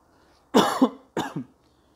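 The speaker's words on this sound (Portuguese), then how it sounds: "eu tô com um pouco de tosse" Two sharp coughs close together, near and fairly loud, with quiet around them and no talking.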